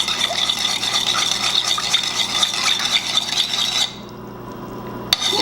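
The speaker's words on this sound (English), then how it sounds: "Now you're just going to want to keep on stirring until all the salt" Salt being stirred into pickling brine for English pub-style pickled onions, a steady close scraping and swishing that runs for several seconds, then cuts off abruptly into near silence with one brief clink near the end.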